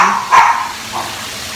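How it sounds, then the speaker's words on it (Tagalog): A dog gives a single sharp bark followed by a fainter second yelp, fairly close, over quiet background noise. "tahol siya ng tahol"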